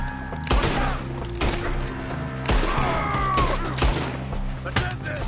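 Gunfire crackles through a frontier shootout in the video game Red Dead Redemption 2, sharp shots cracking repeatedly over a dense game soundscape while shouting voices carry on beneath.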